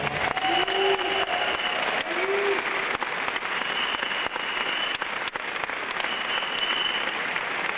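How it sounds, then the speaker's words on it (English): Sustained applause fills the room, a large crowd clapping steadily and loudly with a few faint whistles above it. "Let's give them all a round of applause."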